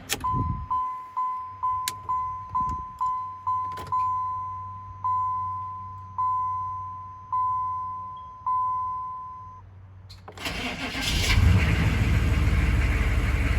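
A 6.5 diesel engine in an optimizer build fires up for its first start after a run of slowing dashboard chimes, then settles into a loud, steady clatter close by.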